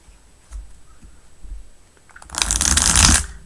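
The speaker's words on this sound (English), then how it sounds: "Buttery soft shuffling." Soft, buttery riffle of tarot cards being shuffled up close, a brief papery burst after a few faint taps, no talking.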